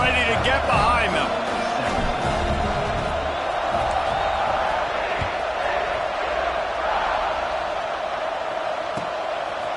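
A football stadium crowd roars in a dense, continuous wash of cheering and noise, loud and sustained, with a commentator's voice faintly beneath it.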